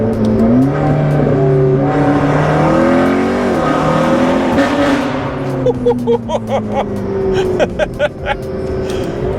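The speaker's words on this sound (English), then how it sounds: "It does have a little bit of a weird rasp under load with the factory back half of the exhaust" A McLaren 650S sports car engine fitted with downpipes revs and roars up loudly, the pitch climbing and falling, followed by sharp crackling pops from the exhaust.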